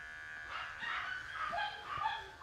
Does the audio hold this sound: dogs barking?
yes